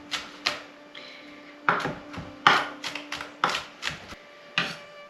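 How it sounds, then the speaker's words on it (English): Garlic is chopped with a knife on a wooden cutting board, making a dozen or so sharp, close knocks in an uneven rhythm with short pauses between bursts, otherwise quiet. "We are ready to chop up our garlic."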